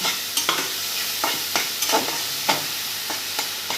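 Ginger garlic paste frying in a pan for a sea fish curry, a steady crackling sizzle broken by repeated scraping stirs of a spoon, close and fairly loud with no voices.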